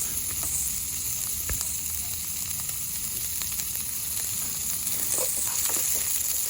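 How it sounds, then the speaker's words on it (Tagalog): Garlic and onion sauté in a pan for sarciado, giving a continuous close sizzle and crackle with faint stirring noises and no talking. "antayin lang natin na medyo maluto yung ating garlic. Then, isunod na natin yung ating onion."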